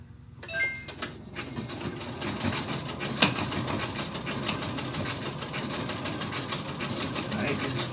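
A sewing machine runs steadily through an overlock stitch on an improv quilting piece, a fast continuous mechanical whir and rapid needle clatter heard close up, with a voice talking over it.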